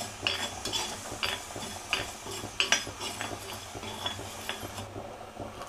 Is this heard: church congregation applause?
no